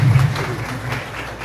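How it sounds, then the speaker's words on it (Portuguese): Audience applause at a literacy seminar in Novo Horizonte do Norte, Mato Grosso: a short, steady burst of many hands clapping in a hall, loudest at the start and tapering slightly. "Vocês merecem uma salva de palmas por isso."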